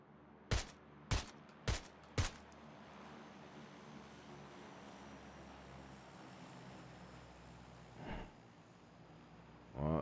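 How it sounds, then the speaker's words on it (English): Four sharp, loud bursts of video game gunfire crack out in quick succession over a steady droning aircraft engine, followed by a softer distant thump and another hit at the end. "Yeah, they're shooting at us."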